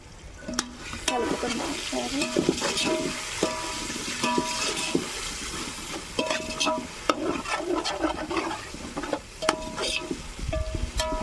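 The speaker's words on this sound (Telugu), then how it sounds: "అల్లం చిన్నపాయ మాడకుండా కొంచెం బాగా ఫ్రై చేసుకోండి కంప్లీట్" Ginger and small onions are stirred and fried for a biryani cooked over a wood-fired stove. A steady sizzle runs beneath repeated sharp metallic scrapes and clinks of the ladle against the pot, close and irregularly paced.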